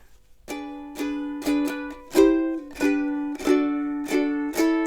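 Bright ukulele chords strummed in an uneven, syncopated rhythm, each strum ringing out and decaying before the next, played alone.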